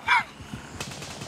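Gunfire in the video game Gray Zone Warfare: a sharp burst of shots at the start, followed by scattered, fainter cracks and shots under a voice.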